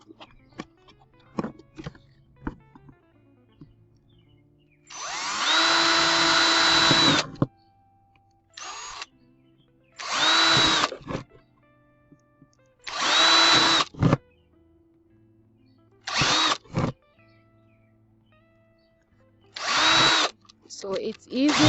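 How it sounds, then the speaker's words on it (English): Power drill boring holes in a plastic potato grower container, running in several loud bursts of one to two seconds each with quiet gaps, near the listener and with handling noise in between. "And then we just drill another one there."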